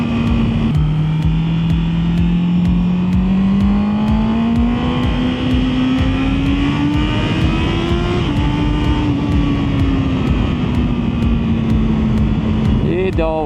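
Honda CB650R motorcycle riding through forest, its engine droning loud and steady throughout, pitch rising gradually as it accelerates, with no talk over it.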